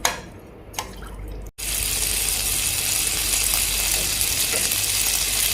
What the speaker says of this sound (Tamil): நல்லா தண்ணியை வடிகட்டி எடுத்து உதிரியாக வச்சுக்கலாம்